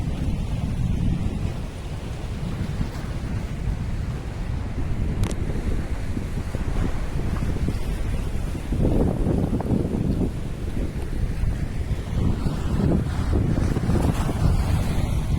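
Steady rain and wind-driven waves beat against a fishing boat off Kuwait, a dense, continuous wash of noise with gusts buffeting the microphone and no voices.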